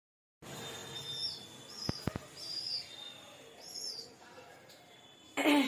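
A baby bird in a nest chirps in short, thin high calls, some close and some fainter, with a few sharp knocks and a burst of louder noise at the end.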